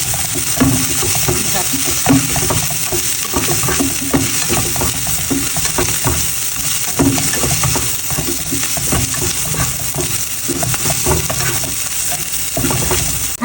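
Steady, loud sizzling of spices frying in a pan for prawn bhuna, with constant crackle and the clink of a spoon stirring throughout.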